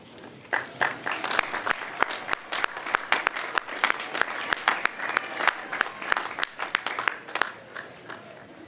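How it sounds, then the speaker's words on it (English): A commencement ceremony audience bursts into a round of applause, many hands clapping steadily for several seconds at moderate loudness, filling the hall without speech. "thank those people with a round of applause"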